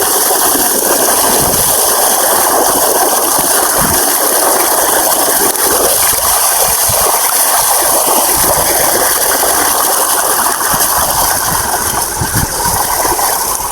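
Tap water pours steadily to rinse shampoo off goats, a loud continuous gushing and splashing that runs the whole time with scattered knocks and rattles.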